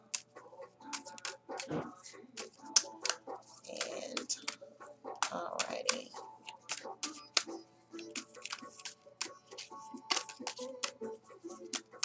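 Tarot cards being shuffled by hand before a Taurus reading, a run of quick crisp riffling and patter bursts close to the mic, with a few brief spoken words in between.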